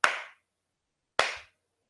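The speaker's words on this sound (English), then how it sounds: "if you clap your hand," Two sharp hand claps in a quiet room, about a second apart, each crisp and close with a short decay.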